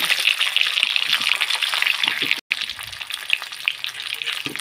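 Fish pieces frying in oil with black cumin seeds over low gas heat, a loud steady crackling sizzle with a brief dropout midway, and no talking.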